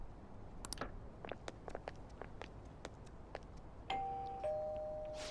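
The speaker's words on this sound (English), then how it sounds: "You ring the bell." A doorbell chime rings in the video game Persona 5 Royal, a bright sustained two-tone ding over faint ambient clicks and footstep-like taps.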